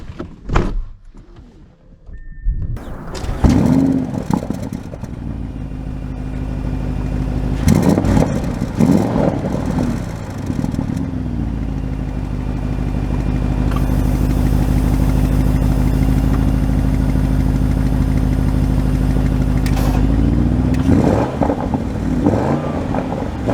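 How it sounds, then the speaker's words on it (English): A 2023 Audi RS Q8 starts up with a door thunk, then its engine settles into a loud, steady rumble close by as the SUV sets off, the drone holding strong before a brief revving rise near the end. "So we are setting off in the RS Q8 first"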